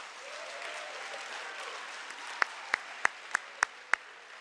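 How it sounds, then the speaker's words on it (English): Audience applause for speech contest participants, a soft wash of clapping that thins out and ends in six sharp, evenly spaced single claps close by. "Can you give them all a huge round of applause?"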